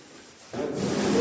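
Putty knife spreading a second layer of wall filler over plaster, a near scraping rub that starts quietly and becomes louder and steady halfway through.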